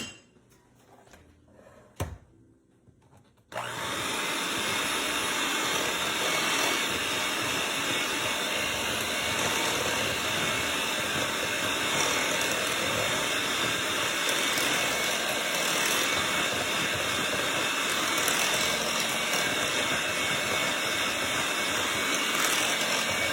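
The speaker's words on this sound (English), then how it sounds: "I'm just going to use my handheld mixer for today." A handheld electric mixer whirs through orange juice cake batter. A few quiet clicks and a knock come first, then the motor starts and runs loud and steady to the end.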